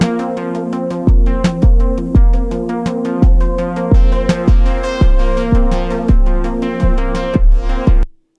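Sounds from a Sequential Take 5 synth form a steady drum beat, the kick sidechained so the sustained chords pump and duck on every hit, loud and alone, about eight seconds long, cutting off cleanly at the end.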